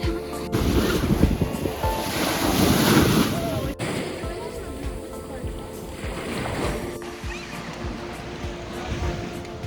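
Black Sea waves wash and break close by at Odesa while wind rumbles across the microphone, loud and constant throughout.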